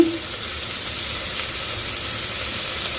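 Vegetables for baby khichdi sizzle steadily in a pan, a close, even crackling hiss with no talking.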